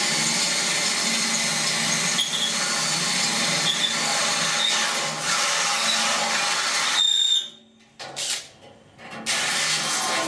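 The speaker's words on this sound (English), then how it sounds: "So I drill my pilot hole first" A power drill with a 5/16 bit bores through rusted, heavier-than-normal sheet metal on a 1969 C10 core support, a steady, close whine that stops, then briefly restarts.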